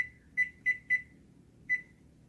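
A brand new oven's timer gives four sharp electronic beeps in quick succession, then one more after a short pause, each a clear close tone over a quiet room.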